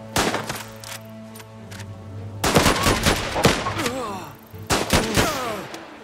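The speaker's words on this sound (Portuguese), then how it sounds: "Vou montar a metralhadora aqui." A mounted machine gun in the video game Last Train Home fires several loud, close bursts of rapid shots separated by brief pauses, with a low engine-like hum underneath and no speech.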